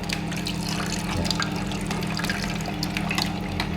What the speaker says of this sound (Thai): น้ำจากการต้มข้าวโพดเนี่ยครับ เราก็เอามาใส่พอท่วมๆนะครับ